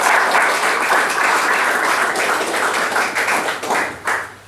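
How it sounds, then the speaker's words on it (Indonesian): Loud, dense applause from a gathered crowd fills the space at a religious fraternity's inauguration ceremony. The clapping is sustained and close, then thins and fades toward the end. "Kita sambut dengan tepuk tangan."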